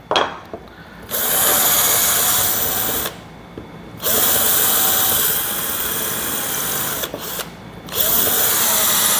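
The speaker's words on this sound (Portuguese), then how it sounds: "Então eu vou, ó, fazer um furo aqui, ó. E vou fazer um furinho." A power drill bores a hole into a small piece of wood while building a prototype wind generator. Three sustained whining runs of the drill sound up close, separated by short pauses.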